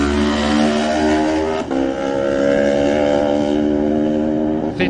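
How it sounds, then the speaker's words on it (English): A Kawasaki racing motorcycle in the Isle of Man TT Lightweight race, 2018, its engine droning loud and close with a steady high whine, briefly dipping before revving on again. "next away, and the Dino Bike Kawasaki of Dominic Herbertson."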